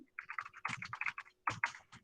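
Rapid, irregular clicking of keys on a computer keyboard, close and fairly quiet, with a few heavier keystrokes mixed in.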